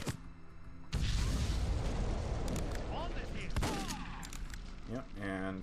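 A SPAS shotgun fires in the N64 game The World is Not Enough, giving two loud, booming blasts a few seconds apart, each followed by a lingering rumble, with fainter game effects in between.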